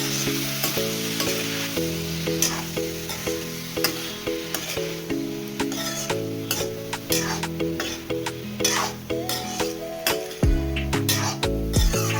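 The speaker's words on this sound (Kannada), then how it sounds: "ಇಷ್ಟು ಹಾಕಿದ ಮೇಲೆ ಒಂದು 5 ನಿಮಿಷ ಎಲ್ಲನೂ ಚೆನ್ನಾಗಿ ಫ್ರೈ ಮಾಡ್ಕೋಬೇಕು" Goat blood fry sizzling and being stirred in a pan, with steady frying hiss under a tonal musical bed and frequent clinks of a spoon against the pan throughout.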